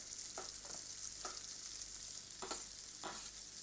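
Food frying in a pan for a pasta dish, a steady bright sizzle with occasional soft scraping strokes of stirring, close and moderately quiet with no voices.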